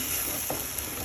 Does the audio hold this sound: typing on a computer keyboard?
no